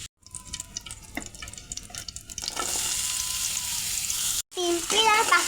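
Oil poured into a pan for pasta, first with light stirring and water-like clatter, then a loud, steady frying sizzle that fills the rest, briefly cut off before resuming close by.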